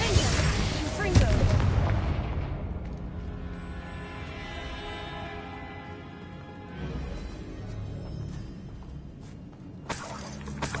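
Confringo fire spells explode in Hogwarts Legacy, a loud initial blast with crackling debris fading into a sustained rumbling, tonal magical ringing, then further bursts near the end, with a voice briefly audible.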